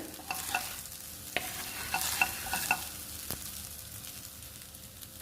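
Egg rice frying in a pan, a soft steady sizzle with intermittent scraping stirs and light clinks of a spatula, close and fairly quiet.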